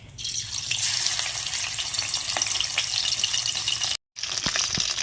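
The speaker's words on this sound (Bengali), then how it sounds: "এবারে মাথাটা আমি আলাদা করে ভেজে নিচ্ছি।" Bhola fish head frying alone in oil in a pan: a steady, close, dense hiss of sizzling that runs unbroken, cuts out briefly near the end, then resumes.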